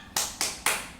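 A group claps in rhythm during an ice-breaker clapping game, three sharp bright claps spaced evenly, each ringing briefly before fading.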